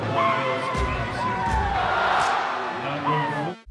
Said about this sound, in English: it is a big crowd here tonight